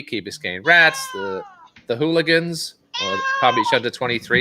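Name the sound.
cat meowing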